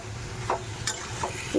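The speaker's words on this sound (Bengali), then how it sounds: "ভালো করে এবার নাড়াচাড়া হয়ে যাচ্ছে।" Onions frying with garam masala and spices in a pan give a soft, continuous sizzle while a few spatula strokes scrape and tap across the surface.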